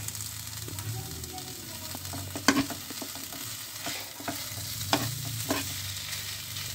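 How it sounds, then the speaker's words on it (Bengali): A ladle mashes boiled potatoes in a pan for an aloo koraishuti filling, giving quiet scattered scrapes and knocks over a faint low sizzle. "আলুটা ঘেঁটে নিলে সবচেয়ে ভালো হবে, তাহলে স্টাফ করতে সুবিধা হবে, তার জন্য হাতা দিয়ে আমি এখন ঘেঁটে নিয়েছি।"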